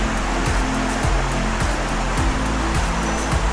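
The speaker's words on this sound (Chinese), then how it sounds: "到咗黄龙瀑啦" Huanglong waterfall on a rocky stream gorge, a loud constant roar of rushing water close by, alone and unbroken with no voices.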